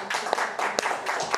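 Musicians in a bar audience applaud with dense, steady clapping, a few sharper claps popping out of the wash, heard fairly close and moderately loud for a brief moment.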